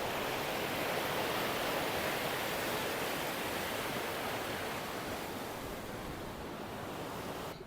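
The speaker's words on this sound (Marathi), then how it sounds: "बघू शकतात पाणी बघा किती प्रेशरने आहे" The Ghataprabha river rushes at high pressure under a village bridge, forming a loud, dense, unbroken roar of turbulent water heard close and steady throughout, with no voices.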